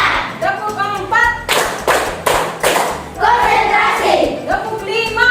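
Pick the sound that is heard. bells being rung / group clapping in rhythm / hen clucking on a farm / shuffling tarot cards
group clapping in rhythm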